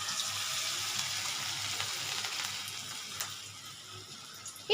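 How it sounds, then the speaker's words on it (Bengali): Banana fritters dropped one by one into hot oil, giving a continuous bright sizzle and crackle close by, steady and fairly loud, with no talking. "দেখো বড়াগুলো ছাড়ছি, দেখো একটা একটা করে কম আছে ছাড়বো"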